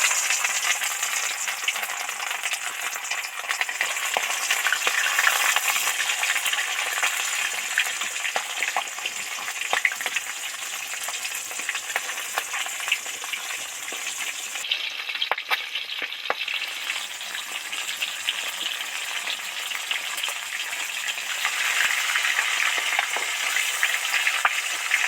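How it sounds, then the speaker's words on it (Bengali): Rohu fish heads fry in hot oil, a loud, close, unbroken crackling sizzle with faint spatters and steady hiss lasting throughout, no talk. "তেল তো গরম হয়েই গেছে, এবার মাছের মুড়ো দুটো সবার আগে তেলের মধ্যে দিয়ে দেব।"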